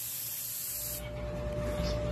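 Spray gun laying down PPG Deltron DCU 2002 clear coat over candy paint, a steady close hiss that fills the whole clip, strongest in its second half.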